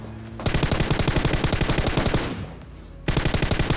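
Rapid automatic gunfire in the mobile battle-royale game PUBG Mobile, a dense loud burst of repeated shots that briefly thins out, then resumes sharply near the end, with no talking.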